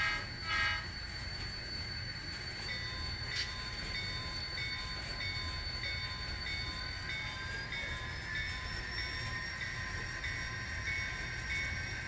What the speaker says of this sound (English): Two honks.